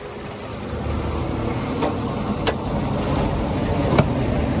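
A 1999 Toyota Corolla 1.6 engine runs at a steady idle, a continuous mechanical hum with a few faint clicks and ticks, recorded close with no talking.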